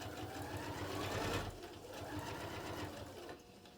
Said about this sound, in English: Again, back stitch to the edge and then go forward.